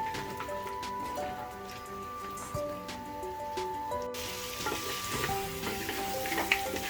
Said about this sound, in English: fry it on medium to high flame